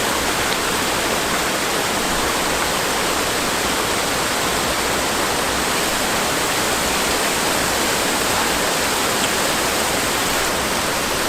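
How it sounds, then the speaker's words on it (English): A small waterfall on the West Highland Way in Scotland in winter pours in a loud, constant, dense rushing roar close by, with no voices. "We're at this really lovely little waterfall."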